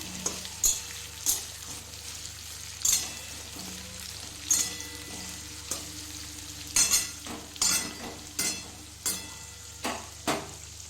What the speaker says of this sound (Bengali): এরপর একে একে আমি আলুগুলো ছেড়ে দেবো। আলুটা আমি ভেজে নেব।